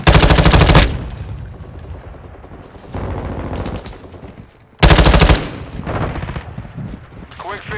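Automatic gunfire in Call of Duty: Modern Warfare II on the Showdown map: two loud, rapid bursts with quieter firing and game effects between them.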